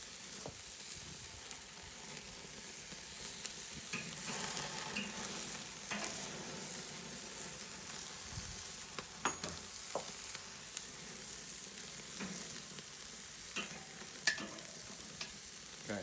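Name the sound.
sous vide ribeye steak searing in pan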